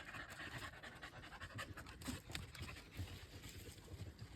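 A dog pants steadily in rapid, rhythmic breaths close by, outdoors in the high desert of western Colorado, with light wind noise in the background and no talking.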